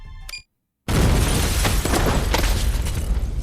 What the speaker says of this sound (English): A sudden explosion from within the corridor sent Tateno careening off balance